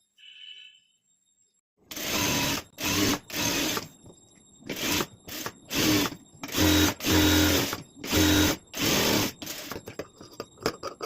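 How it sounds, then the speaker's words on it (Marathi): A sewing machine stitches a blouse seam in a series of loud, close bursts of rapid mechanical whirring, each run separated by brief pauses, with no talking. "याला आता अशी टीप मारून घ्यायची आहे"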